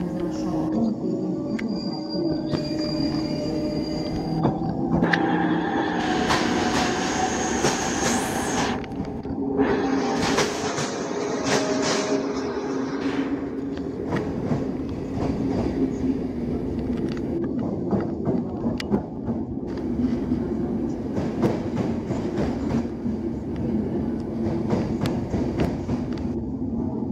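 A Traxx electric locomotive, number 480 022, pulls a train away from track 13 at Keleti station, with a rising tonal whine early on over a continuous rolling rumble and scattered clunks that carry on steadily.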